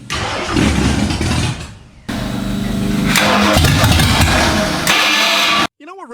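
A stroker Windsor V8 in a Fox Body car cranks and catches, then runs loud and rough close by with a brief lull before idling on, while voices talk over it and a short voice is heard at the end.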